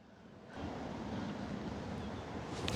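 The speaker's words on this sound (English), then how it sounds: "Yeah, a little windy out." Wind rushes and buffets across the microphone on a disc golf course in Kentucky, a steady, broad roar, fairly loud throughout, with no voices.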